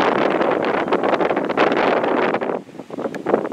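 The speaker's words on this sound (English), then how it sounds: "the wind is blowing so damn hard" Strong gusting wind roaring across an open building site with houses going up, heavy buffeting against the microphone that dips briefly and then surges again, loud and continuous.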